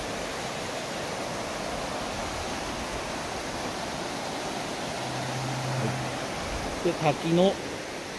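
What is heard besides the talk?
Ryuzu Falls waterfall in snow, Nikko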